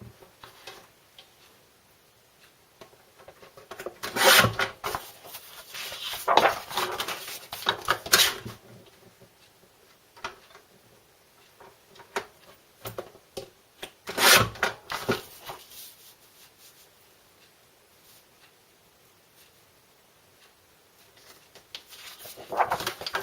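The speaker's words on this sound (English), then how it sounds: "I'm just going to start off by trimming off the manufacturing strips." Scrapbook papers have their manufacturing strips trimmed off, giving short bursts of rasping cutting and rubbing separated by quiet gaps, close and fairly faint.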